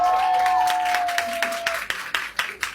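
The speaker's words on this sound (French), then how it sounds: "Applaudissez s'il vous plaît pour Ariana." Audience clapping at a ceremony welcoming a queen, a run of claps building over a sustained tone, moderately loud with scattered sharp hand claps and some voices.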